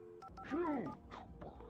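Telephone keypad dialing in the video game Alan Wake, with a few short electronic tones followed by a sweeping warbling tone, heard alongside game sound and voices.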